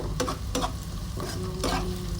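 Onions browning in a frying pan, a steady low sizzle with several clear spatula scrapes spaced about a second apart, close and fairly quiet, with no voices.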